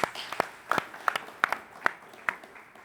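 A sparse round of applause for a panel speaker at a community summit, a handful of distinct claps ringing out at a steady, irregular pace, fairly close and light rather than a full roaring ovation.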